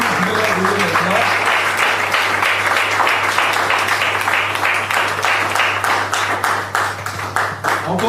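Loud, sustained applause from an audience at a talk or seminar, many hands clapping steadily close by with a few louder individual claps and a faint voice underneath, over a constant low hum.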